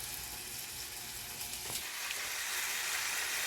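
Beef for fajitas frying in a pan, a soft steady sizzle with a brief stir or scrape partway through, fairly quiet and close, no voices.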